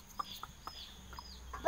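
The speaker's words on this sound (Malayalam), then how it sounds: "നമ്മുടെ കോഴികളൊക്കെയാണത്" Domestic chickens and young chicks on a small Kerala homestead that also keeps goats, giving a few soft, short clucks spaced out in quiet surroundings, with one brief louder call at the end.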